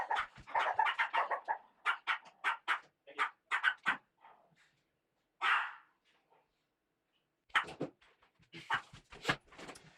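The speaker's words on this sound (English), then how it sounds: "So my dogs are barking right now." Several dogs barking in rapid bursts at a middle distance, separated by short pauses, with a few whimpering yelps and no talking.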